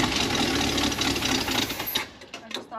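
A 1968 Chevrolet G20 van engine cranks and catches into a rough, steady running rumble for about two seconds before cutting off abruptly into near silence.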